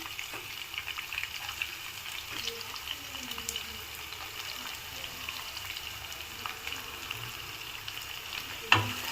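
Chopped onion frying in oil with curry leaves, dried red chillies, green chillies and grated ginger for tomato bath, a soft continuous sizzle with occasional stirring scrapes and a sharp clink near the end, no voices.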